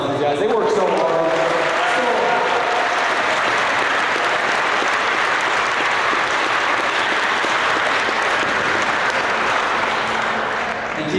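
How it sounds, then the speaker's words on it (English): A school auditorium crowd at an eighth grade graduation gives a long, loud round of applause, dense clapping holding steady throughout with faint crowd noise mixed in. "let's give a round of applause to these guys"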